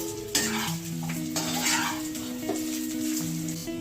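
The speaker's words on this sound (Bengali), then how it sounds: "দিয়ে কড়াইশুঁটি দেবো, একটু গাজর দেব, বিনস দেব, দিয়ে এটাকে আগে নেড়ে নেব" A spatula stirs peas, carrots and beans in a wok, with close metallic scraping and clattering over a light sizzle of frying.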